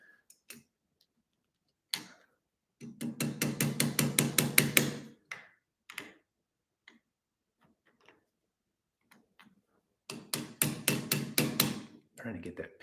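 A hammer strikes a pin on a blue Schwinn bicycle in two rapid bursts of repeated metallic blows, each lasting a couple of seconds, with scattered single taps and small clicks between them.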